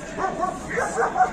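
Egyptian Armant shepherd dogs, a group of about five, give short yipping barks and whimpers in a quick uneven run, moderately close and mixed with background noise.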